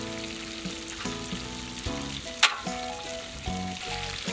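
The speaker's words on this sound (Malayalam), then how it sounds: "നല്ല പുക പാറുന്ന മീൻ വറുത്തതാണ്" Fish fries in a pan with curry leaves outdoors, a steady close sizzle and hiss with a sharp pop midway and a low tonal hum underneath, no voices.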